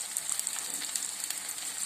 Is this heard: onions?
yes